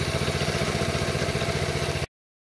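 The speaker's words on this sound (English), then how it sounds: "Got the four banger engine in it." The four-cylinder engine of a mini bike idles nearby with a steady, loud, rhythmic chugging rumble and light clatter, then cuts off abruptly into silence.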